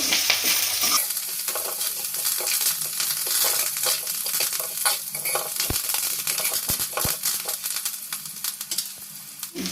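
Curry leaves crackle and sizzle sharply in hot oil for a Telugu-style toor and moong dal rasam, a steady loud frying hiss with bursts of pops and a few spoon knocks against the pot.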